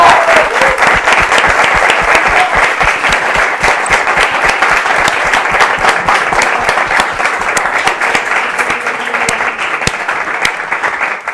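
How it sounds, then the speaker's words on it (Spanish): Sustained audience applause for two guest performers at a live talk event in Spain, dense steady clapping that fills the room at full strength for over ten seconds with no talk over it. "Y un fuerte aplauso para Petra y Juan."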